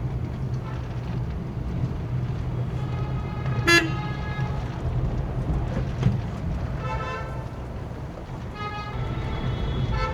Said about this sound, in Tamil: இங்கே கொஞ்சம் டிராஃபிக் ஜாமாக இருக்குது